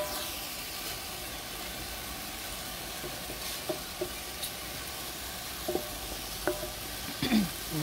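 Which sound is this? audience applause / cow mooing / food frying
food frying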